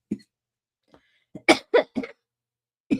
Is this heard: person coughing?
yes